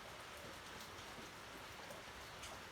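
Steady rain falls outdoors, a dense, even hiss of drops on surfaces that holds constant and fairly faint throughout, with no voices.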